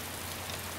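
Steady rain falling in the survival video game DayZ, a dense, even hiss filling the short moment at moderate level with no voices over it.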